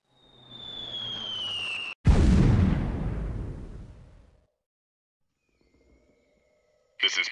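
Artillery fire for effect in the combat video game Delta Force Land Warrior: a rising whistle, then a heavy booming blast that rumbles and decays over a couple of seconds, followed by quiet and a faint sound at the very end.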